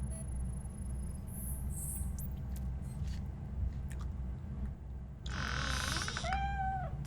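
A cat meows repeatedly in RoboCop: Rogue City, a few rising and falling cries close by near the end over a steady low game ambience, with faint earlier chirps.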